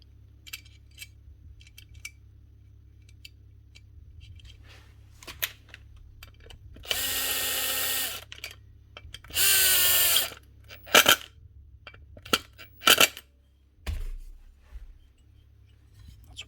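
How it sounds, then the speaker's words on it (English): A power drill drives screws to fasten a plate onto a 30-year-old Makita 9045N half-sheet sander, giving two sustained whirring bursts amid scattered clicks and taps of handling on a quiet bench. "Screw this plate on."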